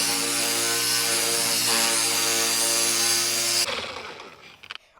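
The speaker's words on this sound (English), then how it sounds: "and let's continue buffing." A buffer machine polishes headlights with a steady, loud motor whine and buzzing hum that runs evenly, then winds down and stops, leaving faint handling clatter.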